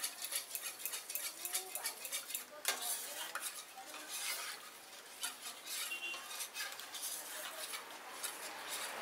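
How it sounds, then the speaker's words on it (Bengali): A spoon stirs milk in a pot while making Bengali sweet yogurt, misti doi, giving soft repeated scraping and light metallic clinks, close and fairly quiet, with no talk. "ভালো করে এটাকে আমি নেড়ে দিচ্ছি।"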